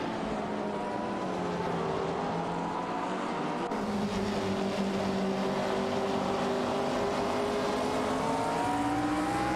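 Several race car engines drone and whine together in an AI racing video game, steady high-pitched tones sliding up and down as the cars battle for position.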